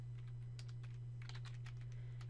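Keys click at an uneven pace on a computer keyboard while a date is entered in Microsoft Word 2016, quiet and close over a steady low electrical hum.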